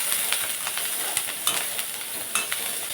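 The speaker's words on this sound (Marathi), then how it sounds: "कांदा छान भाजलेला आहे." Chopped onion fries in a little oil with cumin and turmeric. A close, steady sizzle is punctuated by sharp spatula scrapes and taps every fraction of a second.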